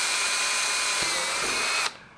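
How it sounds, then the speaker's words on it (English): A handheld power drill whines steadily as it bores through a cracked motorcycle fairing panel, running at high speed for about two seconds before stopping abruptly. "You want to drill 4 holes at a time."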